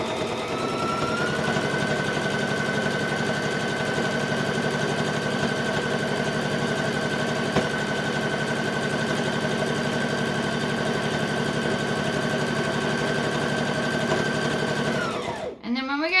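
A sewing machine stitches a fabric dice bag in one long steady run of fast mechanical whirring, loud and close, winding down to a stop near the end.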